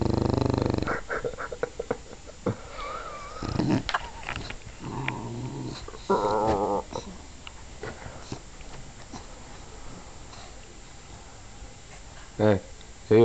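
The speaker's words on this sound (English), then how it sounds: "You're awake, why are you snoring?" An English bulldog gives harsh, throaty snorts and growl-like breaths in uneven bursts, close and fairly loud, with quieter rasping stretches between them.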